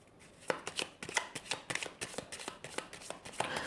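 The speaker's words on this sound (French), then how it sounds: "je vais recouvrir avec les cartes du Petit Lenormand" Petit Lenormand cards are shuffled by hand in a quiet room, giving a series of crisp riffling and slapping bursts in an irregular rhythm, close and soft.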